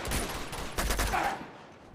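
Rapid bursts of gunfire from a firefight in the action video game Uncharted 2, loud and dense through the first half and then trailing off.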